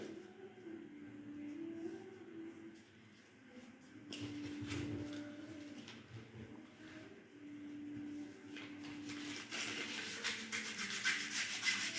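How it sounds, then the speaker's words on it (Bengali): Fingers rub physio tape firmly onto an elbow, making soft, faint scuffing and sliding strokes that come and go in quiet, uneven passes. "ভালো করে ঘষে লাগিয়ে দিতে হবে"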